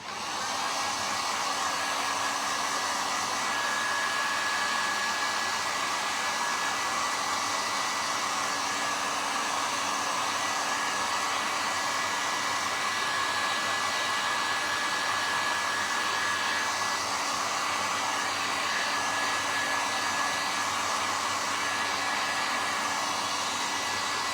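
A hair dryer blows steadily and loudly for the whole stretch, drying a decorated wood plate, with no talk over it.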